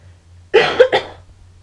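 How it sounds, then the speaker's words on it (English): Three quick, harsh coughs close to the mic in a theatre, bunched within about half a second, followed by a faint low hum. "I'm coughing."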